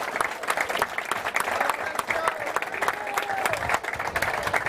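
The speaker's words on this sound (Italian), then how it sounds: "Quindi un applauso ad Alessio" An audience at the Galà del Calcio Dilettanti applauds Alessio, a dense run of hand claps with a few distinct sharp claps standing out, steady and fairly close, with faint voices beneath.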